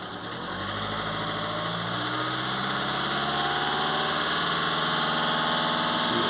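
A Volkswagen Tiguan engine runs steadily close by, its drone rising gradually in pitch and loudness as the revs climb, with no one speaking.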